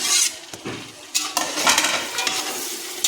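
Green chillies and tomatoes sizzle in biryani masala in a pan, with bursts of hissing frying and scraping stirring strokes coming one after another at close range.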